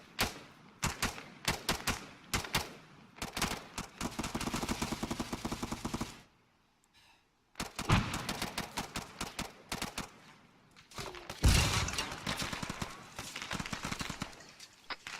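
Rapid bursts of gunfire crackle during squad training, with dense volleys of shots, a brief pause, then more sharp reports, some near and loud, with faint voices in between.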